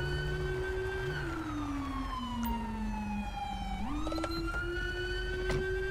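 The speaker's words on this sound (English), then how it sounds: "turn off your siren" A police car siren in the video game GTA V with the LSPDFR mod wails loudly and steadily, sweeping slowly down and then back up in pitch, with no talking.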